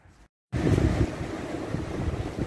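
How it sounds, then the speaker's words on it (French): Steady outdoor wind buffeting the microphone, a loud continuous low rumble that cuts in after a brief silence and holds without voices. "Désolé, il y a du vent aujourd'hui."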